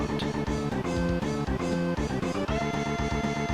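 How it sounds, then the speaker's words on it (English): Synthesized bass guitar line in the Koopa stage music of Super Mario World 2: Yoshi's Island, pulsing low and steady beneath a busy, loud arrangement of other game instruments with no talking. "You can hear the bass guitar in the background."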